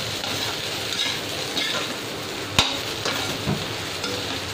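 Spice masala of red chili powder, turmeric and garam masala frying in a pan while being stirred, a dense close sizzle with soft scraping strokes and one sharp utensil knock near the middle, no talking.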